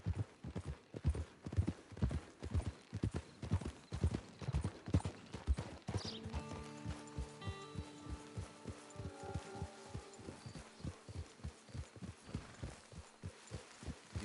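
Rhythmic clip-clop of horse hooves in Red Dead Online at a steady walking pace, loud and close, with a soft musical tone rising underneath halfway through.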